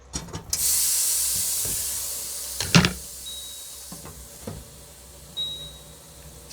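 NY steak on a Kalorik Maxx grill, giving a steady soft hiss and sizzle broken by a few sharp clatters and clicks.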